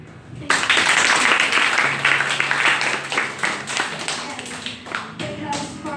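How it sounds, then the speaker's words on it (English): Audience hand clapping breaks out at an honours class gathering, starting abruptly as a dense burst of applause and then thinning into scattered claps, with some voices underneath. "I would like all of you to give a round of applause to yourself."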